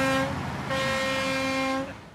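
Horn-like harmonic tones from a vehicle on a snowy Summit County street during a cold snap, where a garbage truck is collecting trash; two sustained blasts sound loud and close over steady engine rumble, with no talking.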